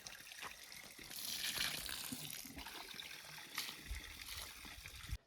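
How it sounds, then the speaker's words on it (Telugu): Water is poured onto a flowering plant at a home in Araku, making a soft, faint splashing trickle that swells and fades over a few seconds. "ఇప్పుడైతే మొక్కకి నీళ్ళైతే పోస్తున్నాము"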